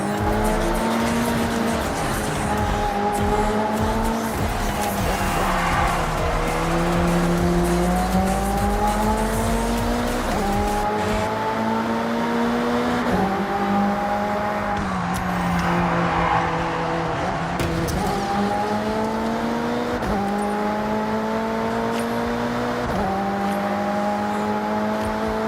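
Race cars in the Forza Horizon 6 video game roar close and loud, engines rising in pitch through the gears and dropping at each shift in a repeating cycle, with tyre squeal and road noise underneath.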